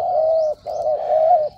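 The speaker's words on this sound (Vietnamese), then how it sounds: "Đây là con chim mà mình sẽ test thái độ nó trước khi gửi cho ông anh ở An Giang" A spotted dove calls close and loud, giving a few smooth, even coos in a short phrase with a brief gap between them.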